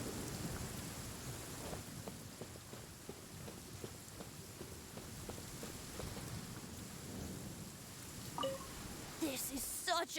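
Steady rain with a low rumble of thunder fills a stormy scene in Genshin Impact, a constant wash of drops heard aboard a ship, with a few sharper sounds near the end.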